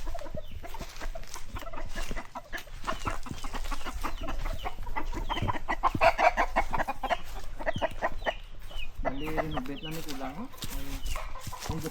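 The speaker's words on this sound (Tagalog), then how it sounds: "Damo siya di manok ba?" Chickens clucking at a house lot in Guimaras, a busy run of clucks and squawks through the whole stretch, fairly close, mixed with outdoor background noise and some voices.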